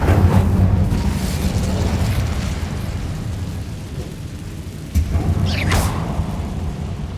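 A fire spell cast in the wizarding game Hogwarts Legacy gives a loud, rumbling whoosh of roaring flame that drones steadily, then flares with a sharp, bright burst partway through.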